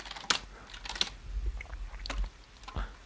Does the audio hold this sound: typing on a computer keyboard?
yes